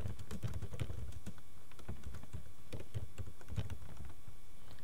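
Fingers type a rubric name on a computer keyboard, a quick uneven run of close, crisp key clicks with no talking.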